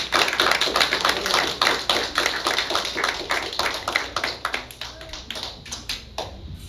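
A church congregation applauding at a service, a dense run of claps with rhythmic tapping pulses that stays steady and fairly loud, then thins and eases toward the end.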